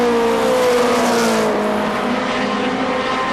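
Stock cars race at KilKare Speedway in Dayton, a loud, close engine roar with several layered drones sweeping in pitch as the cars pass, steady and sustained without a break.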